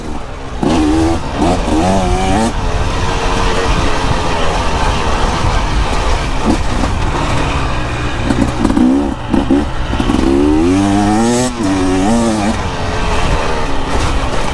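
KTM EXC 300 two-stroke dirt bike ridden off-road, engine revving and rising and falling in pitch, loud and close, with talking mixed in.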